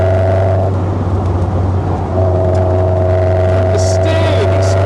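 A Westfield SEiW sports car engine pulls steadily on an open road, its loud drone and low hum rising in pitch as it climbs through the revs in second gear, with a short dip before the note builds again.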